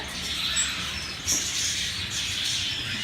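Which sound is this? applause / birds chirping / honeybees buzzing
birds chirping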